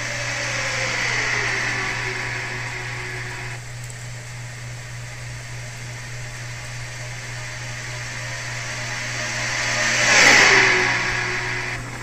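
An ARCA race car engine drones steadily at Daytona under a constant low hum, then swells as a car roars close past near the end and fades away.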